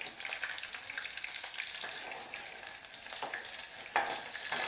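Onions fry until brown in a pan for a chicken curry, giving a quiet, steady sizzle broken by occasional spatula scrapes and stirring knocks, with no one talking.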